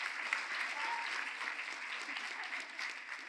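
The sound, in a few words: audience applauding students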